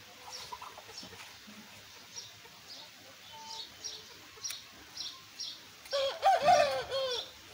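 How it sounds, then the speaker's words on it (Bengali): An Indian Aseel hen basking in the sun gives a few scattered soft clucks, then a louder, clearer run of close clucking calls at the end. "এটা অনেক ডেঞ্জারাস মুরগি,"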